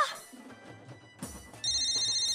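A phone rings with a call from dad in a Marathi TV serial, starting partway through as a steady electronic ringtone that cuts in clearly over murky background noise.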